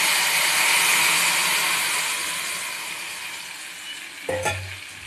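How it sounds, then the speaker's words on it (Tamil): A steady hot sizzle of peanuts frying in oil fills the clip, easing slightly, with a brief clatter near the end as the pan is stirred. "இப்போ இது கூட கொஞ்சம் கடலையை போட்டு ரொம்ப தீச்சிடாமல் பொன்னிறமாக எடுத்துக்கலாம்."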